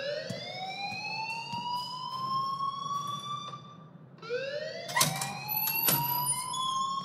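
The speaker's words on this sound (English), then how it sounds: "please turn off that alarm since that's your job" A fire alarm in the video game Life is Strange: a loud, steady rising electronic wail that repeats in two long sweeps, with a couple of sharp clanks near the end of the second sweep.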